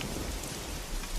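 Rain with a low rumble of thunder in a cartoon about a paper house, a brief, even wash of noise with a deep underlying roll.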